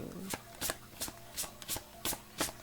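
Playing cards being shuffled by hand, about seven crisp riffling bursts at a steady, even rhythm, close and moderately loud with no talking.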